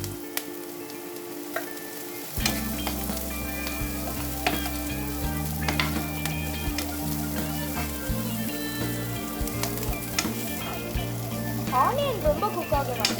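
Capsicum and curry leaves fry in a hot pan, giving a steady sizzle and crackle with occasional stirring scrapes and a low steady tone underneath after a quiet start.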